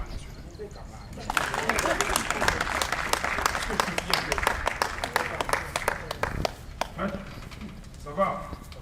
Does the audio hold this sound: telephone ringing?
no